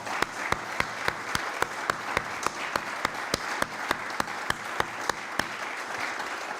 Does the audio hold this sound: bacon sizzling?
no